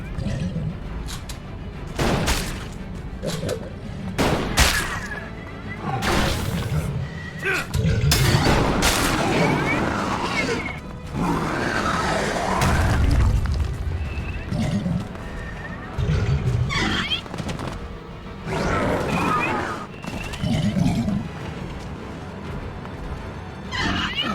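Gunfire in the video game Elex 2, with sharp booming shots scattered among horse neighing and clip-clop hooves, heavy and loud, while voices talk throughout.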